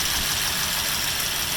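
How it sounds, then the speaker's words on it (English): A 1935 Ford Phaeton convertible's engine idles smoothly and steadily close by, a continuous even rumble with no other sounds. "Just very smooth running engine."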